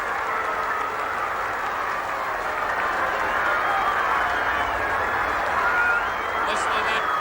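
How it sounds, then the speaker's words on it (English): A huge football crowd roars continuously at the 1966 St Kilda premiership grand final, a dense, sustained wall of cheering with a commentator's voice over it. "Listen to that crowd go mad."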